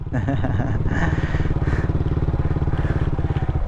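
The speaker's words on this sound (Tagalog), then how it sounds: "Nahihirapan yung motor natin." A motorcycle engine labors with a rapid, throbbing chug, close and loud, while a voice speaks over it.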